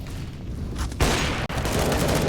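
Rifle and AWP fire during a Counter-Strike match at IEM New York 2020, a loud, dense burst of shots starting midway and continuing steadily, with no talk over it.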